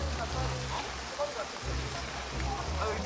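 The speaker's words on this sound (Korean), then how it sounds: "비 쏟아진다" Sudden heavy rain pours down on a campsite in a steady, dense wash of noise that keeps going throughout, with faint low rumbling underneath.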